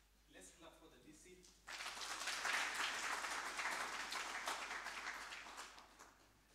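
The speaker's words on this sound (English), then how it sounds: "Let's clap for the DC." Audience applause at a university public lecture, breaking out suddenly after a moment of faint talk and swelling into dense, sustained clapping from a hall crowd that holds steady before slowly thinning.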